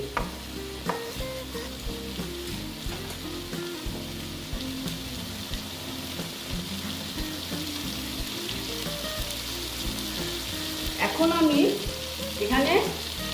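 Potato, pointed gourd and soybean curry sautéing in a pan with a continuous sizzle and bursts of scraping stirring near the end, heard close with no voices.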